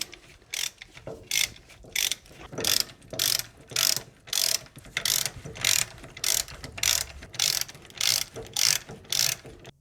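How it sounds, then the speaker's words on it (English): A ratchet socket wrench with a 17mm socket tightens bolts to push up the steering arm on a Toyota Land Cruiser swivel hub. Steady, loud, close-up rapid clicking comes in evenly spaced bursts, with no voices. "take your 17mm socket on a socket wrench, slowly tighten those to push the steering arm up"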